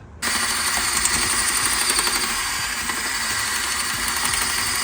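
A power drill kicks in abruptly and runs continuously on a Fox Body drift car's rear suspension, a loud whining buzz with slight rhythmic chatter, close by and unaccompanied by talk.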